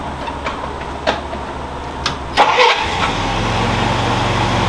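A Jeep engine cranks with a few ticking clicks, catches and fires, then settles into a steady low idle, loud and close.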